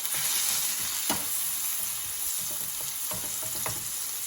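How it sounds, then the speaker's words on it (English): Garlic sizzles steadily in a hot pan, a loud continuous frying hiss with occasional scrapes and stirring clicks, no voices. "garlic, and get it sauteing"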